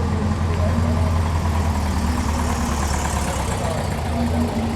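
Porsche cars roll in at a large Porsche event in Australia, engines running in a steady low idling rumble that carries close by through the whole stretch, with voices talking over it.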